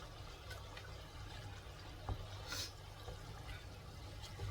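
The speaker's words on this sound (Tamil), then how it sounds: "இது 1 டம்ளர் தண்ணி அளவுக்கு ஊற்றிக்கிறேன்" Water is poured into a ground masala gravy for paneer, a soft continuous trickle and splash under a low steady hum, fairly faint, with no talking.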